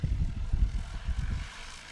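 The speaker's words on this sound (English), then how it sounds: "Time to get our first takeoff of Pony Express STOL in the books with Jeff Abrams." A STOL airplane in the touring class of a STOL competition powers up for takeoff at full throttle, making a steady, rumbling low engine and propeller drone that eases off slightly near the end.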